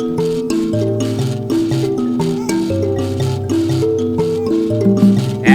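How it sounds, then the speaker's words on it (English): Mbira thumb piano playing the traditional piece Pfumvu Paruzevha, a continuous interlocking pattern of plucked metal tines with bright, buzzy resonance, steady and close. "So the first Mbira, it sounds like this."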